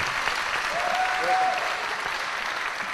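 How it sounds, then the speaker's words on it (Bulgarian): An audience at a religious gathering claps in steady, sustained applause that fills the room evenly for the full stretch. "Нека да им ръкопляскаме още веднъж."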